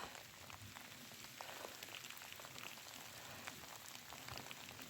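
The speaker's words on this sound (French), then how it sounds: "Il pleut." Quiet, steady rain patters in a forest, a soft continuous hiss with scattered drip ticks and no voices.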